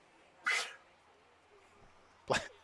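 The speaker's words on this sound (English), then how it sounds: "hot mic here, and we'll get all the sneezes" Two sharp sneezes about two seconds apart, fairly close and loud against a quiet room hum, caught on a live sports commentator's microphone.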